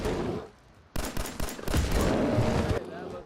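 Rapid bursts of gunfire from the video game Fallout 4 crackle in a dense volley, loud and close, with a voice speaking in between the shots.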